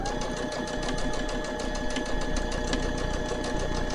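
A domestic sewing machine stitching quilt fabric, its motor humming with a fast, even mechanical chatter of the needle that runs steadily and close throughout.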